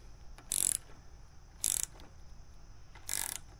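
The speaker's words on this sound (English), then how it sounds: "Now your 10 millimeter wrench or ratchet." A 10 millimeter ratchet wrench works on a Mercury 9.9 hp two-cycle outboard engine, giving three short, quiet bursts of clicking ratchet strokes separated by pauses.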